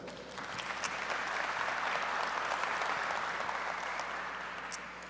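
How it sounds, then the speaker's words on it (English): Sustained audience applause at a technology conference keynote, a full room clapping steadily for about five seconds, swelling slightly and then easing off, with no speech over it. "Let's give it up for Emerson."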